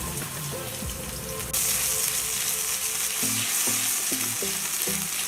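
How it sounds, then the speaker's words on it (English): Mushrooms and leeks fry in oil in a tilted pan, a loud continuous sizzle that jumps brighter midway, with a rhythmic low clatter of the pan repeating toward the end. "You have to make sure that you tilt the pan to make sure that whatever you're cooking mixes up with the oil very well"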